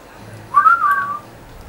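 A short, clear whistle rises and falls once in Assassin's Creed Syndicate, set in England, standing alone over a quiet background.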